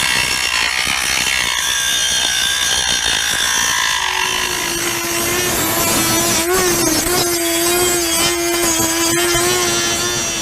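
A tool saws or cuts through a plastic RV sewer hose connector where it joins the tubing, with close, continuous grinding and ratcheting strokes and a sustained tonal hum running underneath.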